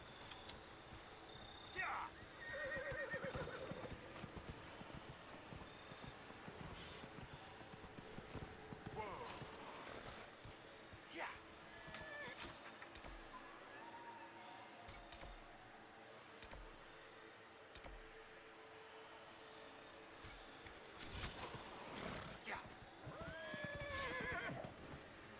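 Horse neighing and hooves clip-clopping in Dragon Age: Inquisition, heard as a few whinnies and steady hoofbeats at moderate distance beneath game ambience, with a voice talking over parts of it.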